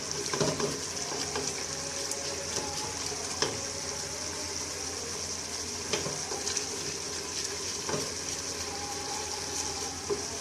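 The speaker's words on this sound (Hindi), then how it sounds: "हम इसको अच्छी तरह इसको भुनेंगे।" Chicken salan sizzles and fries in a pan just after being taken from a pressure cooker. A spoon scrapes and stirs it at irregular intervals over a steady hiss.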